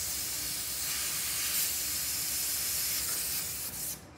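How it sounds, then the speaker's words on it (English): Refrigerant escapes from a cracked-open charging hose on an air-conditioning system as a loud, steady close-up hiss for about four seconds, easing off at the very end. "crack your hose. That way you have pressure coming out."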